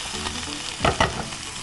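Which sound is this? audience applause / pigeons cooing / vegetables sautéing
vegetables sautéing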